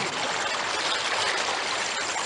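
A steady, full rush of flowing water from the Cijulang river in an audio drama, loud and continuous with no voices over it.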